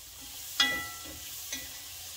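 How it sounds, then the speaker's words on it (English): Squash, carrots, onion and green peppers sauté in a pot with a steady soft sizzle, close and alone, with two brief clinks of a utensil against the pot. "And we're just gonna saute this."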